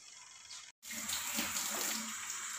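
Tap water runs into a large cooking pot while macaroni is being made, a steady rushing stream with a brief cut near the start, then continuing strongly and close.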